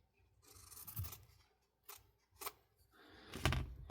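Scissors snip through velvet fabric, cutting it in half: a few separate crisp cuts, some with a soft rasp against the cloth, close up and fairly quiet with short pauses between them.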